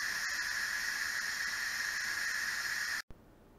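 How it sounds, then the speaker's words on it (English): An Instant Pot venting steam after cooking cabbage soup gives a loud, steady hiss that holds level for about three seconds, then cuts off abruptly, leaving a quiet room tone behind. "So we'll just let that release, and then we'll come back and open this up."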